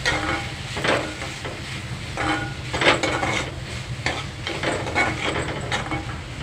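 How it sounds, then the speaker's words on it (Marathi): Garlic paste and spices for prawn masala sautéed in a pan, a loud close sizzle broken by regular stirring scrapes and occasional utensil clinks against the pot. "लसूण लसूणची पेस्ट घाला आणि सगळे मसाले घाला छान परतून घ्या"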